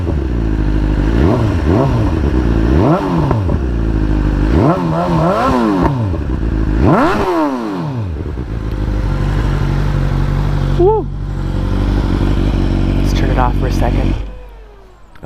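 A 2022 BMW S1000R with aero headers and the stock can, warmed up and revved close by in a series of sharp blips that swoop up and fall back, then settling into a steady idle before shutting off.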